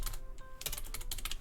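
Fingers type a command on a computer keyboard while setting up a MySQL server on Windows: a quick, close run of light plastic key clicks, a short pause, then another burst of taps.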